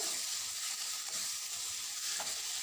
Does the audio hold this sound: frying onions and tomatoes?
yes